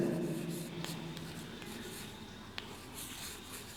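A hand writes out a math statement, the Euclid division lemma, with a pen or marker. The faint, scratchy strokes come in short bursts over a quiet background.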